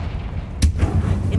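Confringo blast spell from the Hogwarts Legacy video game: a single sharp explosive crack followed by a rumbling low boom over steady background game sound.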